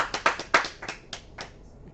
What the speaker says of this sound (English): I'll just give Derrick another round of applause.